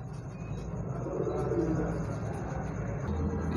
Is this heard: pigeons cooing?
yes